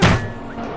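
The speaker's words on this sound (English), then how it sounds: "my controllers have been thrown tonight" A game controller hurled in anger during a gaming session hits with one solid, close thump followed by a brief rattle. The sound fades quickly, and no voice is heard over it.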